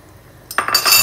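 Store-bought wombok cabbage kimchi is scooped and dropped into a pot of pork bones, a brief wet clatter of a utensil against the pot near the mic, with no talk.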